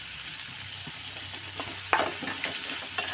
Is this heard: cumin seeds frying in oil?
yes